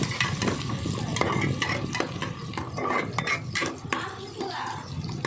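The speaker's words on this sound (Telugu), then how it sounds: "ఇంకా పచ్చిమిరపకాయలు వేసేసి బాగా కలుపుకోవాలి ఫ్రెండ్స్" A spoon scrapes and clinks through onions and green chillies frying in oil in a pan, with an irregular stirring rhythm over a continuous close sizzle.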